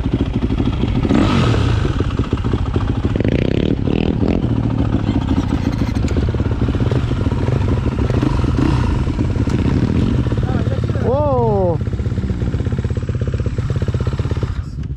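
A 2011 Yamaha 250 motorcycle engine cranks and catches, then runs with loud, rough revving throughout, while people talk and shout over it outdoors.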